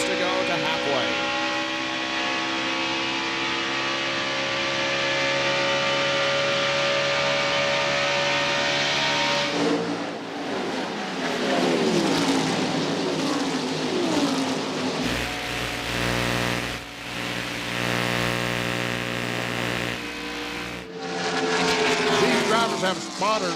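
NASCAR stock cars racing at Fontana in the 1997 California 500, a steady loud engine roar that shifts as packs pass close by, with a commentator talking over it throughout.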